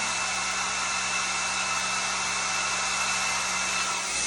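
A blow dryer roars steadily at close range, a loud constant airy whoosh with a faint whine, running without pause.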